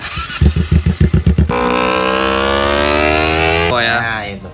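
A big European motorcycle's exhaust burbles in loud, rhythmic pulses at idle, then revs hard into a sustained high-pitched roar before dropping off, close and without talk.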